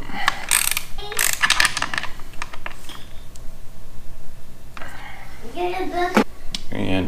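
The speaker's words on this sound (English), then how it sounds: "Then you just reattach those two bolts. Tighten these bolts up." Ratchet wrench clicks in quick bursts while bolts are tightened on the carriage of a Genie screw drive garage door opener, close and fairly loud, with a voice briefly heard near the end.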